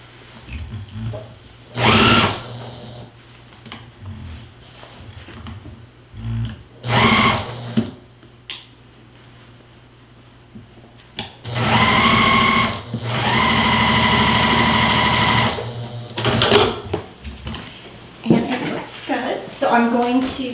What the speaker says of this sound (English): Okay, so I'm gonna sew this together with a 1/4-inch seam. And again, I'm gonna use my other machine